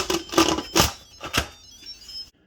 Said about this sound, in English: Now I'm going to lock the lid.